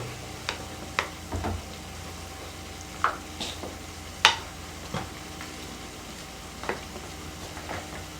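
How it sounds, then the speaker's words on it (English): A spoon stirs shepherd's pie filling in a pan, giving a run of scattered clinks and scrapes over a faint steady sizzle, close by, with no talking. "let me get a spoon to stir that together"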